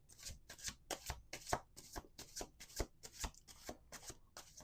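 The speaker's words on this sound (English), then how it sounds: "Last shuffle." Tarot cards are riffled and shuffled in a quick, even rhythm of about ten crisp papery bursts, close and soft, with no voices.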